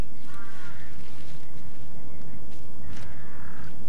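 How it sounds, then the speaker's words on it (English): A peacock gives two loud, harsh wailing calls close by, one early and one near the end, separated by a gap of rustling outdoor background. "Jane said that that bird is called a peacock."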